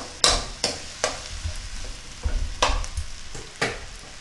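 Mushroom gravy ingredients for kaalan kulambu being sautéed in a pot, with a spoon scraping and stirring in repeated sharp strokes over a low, steady sizzle, close and without talk.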